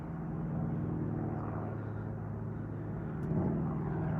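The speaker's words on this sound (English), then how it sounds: "This is a little Minicab aircraft." A Minicab JB-01 Standard light aircraft flying overhead, heard as a steady, droning engine rumble that holds evenly and swells slightly near the end, with no talking.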